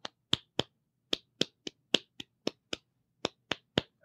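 One person claps a guitar strumming rhythm, a pattern of about fifteen crisp, close single claps in irregular groupings against near silence.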